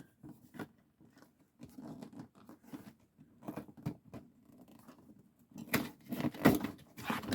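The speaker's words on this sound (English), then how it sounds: "This just has some tape here. Let's see if I can get that cut real quick." A knife cuts packing tape on a Masters of the Universe Origins Prince Adam and Sky Sled toy box. Close scraping and slicing scratches come in irregular strokes, growing busier and louder near the end.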